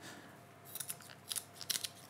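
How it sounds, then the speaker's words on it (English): Fish scissors snipping the fins off a monkfish, a few quiet, crisp cuts in irregular bursts close by, with no talking. "So the first thing you need to do is to take your fish scissors, and along the back you've got a few fins."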